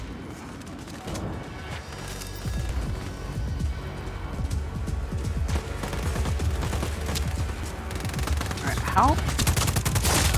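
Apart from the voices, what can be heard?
gunfire in video game Just Cause 4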